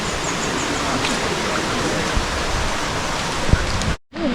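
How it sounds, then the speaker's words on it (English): Creek water in far north Queensland runs downhill in a steady, broadband rushing hiss, close and continuous, with a small tap partway through and a brief dropout near the end. "Creek runs all the way down."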